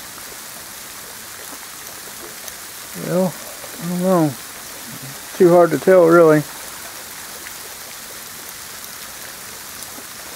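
Sleet and ice pellets fall with a little rain outdoors at night in Elizabethtown, Kentucky, a steady hiss of hard precipitation that runs throughout while someone speaks briefly over it.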